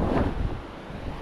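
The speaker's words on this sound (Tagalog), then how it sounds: "Ang tabing dagat ng" Wind buffets the microphone at San Teodoro beach while surf washes in the background, a continuous rushing roar with gusty swells.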